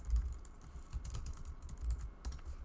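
Quick, light keystrokes on a computer keyboard, a soft irregular run of clicks close to the microphone with no talking.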